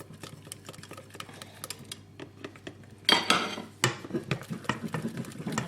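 Banana cake batter whisked in a bowl, a quick run of light metallic clicks and taps from the whisk against the bowl, close up, growing louder and busier in the second half.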